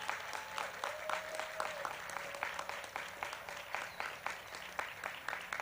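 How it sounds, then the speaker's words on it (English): Standing applause for a retiring middle school principal at a moving-up ceremony, quiet and fairly distant, with an even patter of many hands clapping throughout. "please give Ms. Davis a standing applause for her service to this district"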